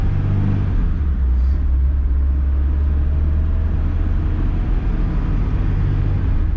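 The engine of a 1970s Ford Cortina misfires, heard from inside the car as a loud, steady low rumble and drone that continues without a break, with no talking.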